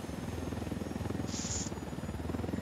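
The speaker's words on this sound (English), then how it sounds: "keep up the pursuit with our helicopter here" A video game helicopter drones with a steady rotor thump, continuous and fairly faint, and a brief higher whine rises in the middle.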